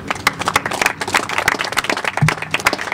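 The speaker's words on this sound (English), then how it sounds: "You can clap." Brief clapping from a small audience at an outdoor press conference, individual sharp claps close together at an uneven rhythm, fairly near and clear.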